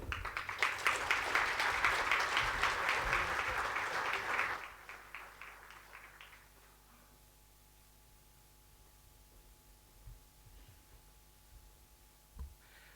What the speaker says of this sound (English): that is the applause for your Minister of Finance and Public Enterprises